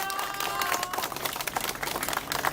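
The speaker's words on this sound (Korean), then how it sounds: "다시 한번 큰 박수 부탁드립니다." Audience applause at a Korean press conference and statement announcement, a steady sustained clapping from a crowd throughout, moderately loud and filling the room with no clear gaps.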